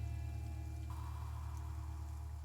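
Steady, soft rain falls in an even wash of noise, with a low electrical hum underneath and no other distinct sounds.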